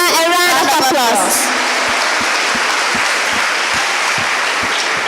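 Audience applause greets a young contestant at a Gambian kids' talent show, loud and steady throughout with voices at the start and a few sharp individual claps standing out near the end.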